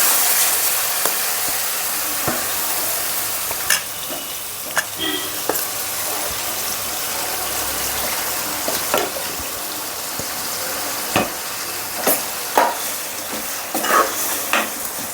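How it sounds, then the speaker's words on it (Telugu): Chicken frying in hot oil for Hyderabadi dum biryani, cooked curry-style at home: a steady, close sizzle runs throughout, with sharp clinks and scrapes of a utensil stirring against the pan at irregular moments, and no talking. "కొంచెం ఆయిల్లో మంచిగా చికెన్ మనం కర్రీ లాగానే వండుకోవాలి."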